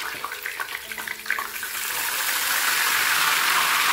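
Spoonful of salt and turmeric water poured into hot oil frying banana chips, setting off a loud, steady hissing sizzle that swells and holds, with faint clinks at first and no talk.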